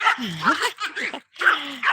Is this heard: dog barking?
yes